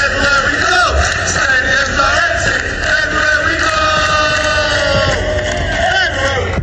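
Large crowd of Arsenal football fans chanting together in a stadium, a loud, continuous roar of massed voices with sustained sung tones throughout.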